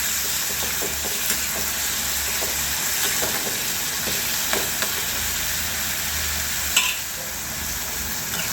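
Onion and tomato for a spicy chutney fry in a pan with a continuous close sizzle, broken by intermittent spoon scrapes and one sharper knock against the pan.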